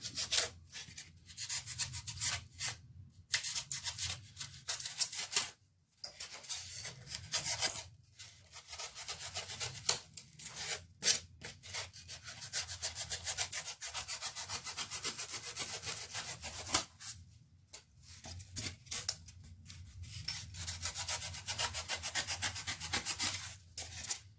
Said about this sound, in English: I'm going to bevel all them edges.